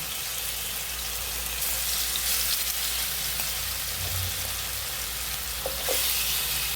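Chicken pieces for kadai chicken fry together in oil in a pan, making a steady, full sizzle throughout with a few faint clinks and stirring bumps, and no voices over it.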